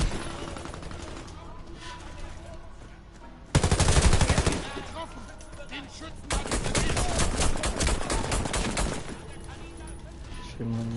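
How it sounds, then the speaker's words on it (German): Heavy machine gun fire in the Warface shooter, two long sustained rattling bursts, loud and close, separated by quieter game ambience, with a voice speaking around the firing. "Die schweren MGs sind abgeschirmt und bemannt nur schwer auszuschalten."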